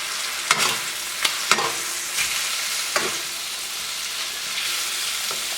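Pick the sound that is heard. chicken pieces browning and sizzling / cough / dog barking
chicken pieces browning and sizzling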